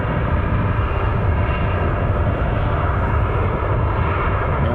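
An American Eagle airliner roars at Cleveland Hopkins airport, its engines producing loud, steady broadband noise that stays constant throughout.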